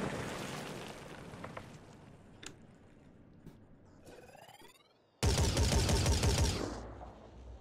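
Gunfire in the video game Phoenix Point: a few scattered sharp shots and whizzing sounds give way to a sudden loud, sustained roaring burst of automatic fire that fades out near the end.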